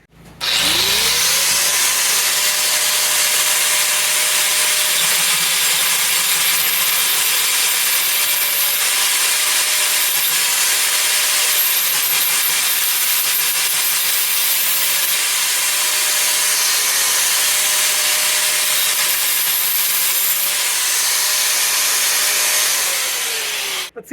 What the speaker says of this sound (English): I think we might try the angle grinder,